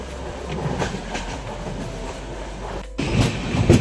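Passenger train on the Konkan line near Sangameshwar Road, a steady rumble and rhythmic clatter of wheels on rails heard from inside the coach, with a brief dropout before the noise swells louder again.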